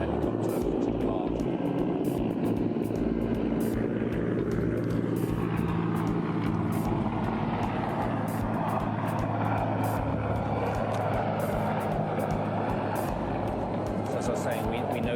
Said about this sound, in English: That was for the third and I think final helicopter to depart.